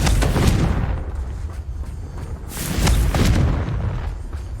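Confringo fire spell explosions boom in the Hogwarts Legacy video game, two loud, broad blasts roughly two seconds apart with rumbling tails between them.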